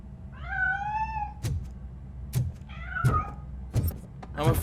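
Two clear cat meows in RoboCop: Rogue City, a drawn-out one followed by a shorter, rising cry, with sharp mechanical clicks and taps between and after them over a low ambient hum.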